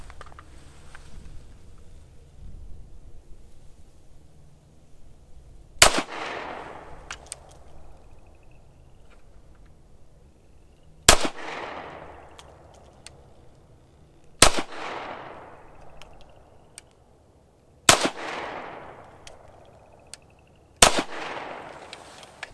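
Ruger-57 handgun fired slowly, five sharp single shots spaced several seconds apart, each loud and close with a short decaying echo, no talking.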